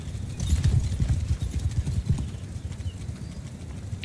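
Many hooves of horsemen galloping forward in the video game Mount and Blade II Bannerlord: a dense, continuous clatter of a cavalry charge, loud at first and then steady, with no voices.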